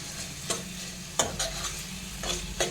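A spoon stirs a mashed roasted eggplant and fresh coriander mixture for Gujarati ringan olo, scraping and clacking against the pan in a few distinct strokes over a steady low sizzle.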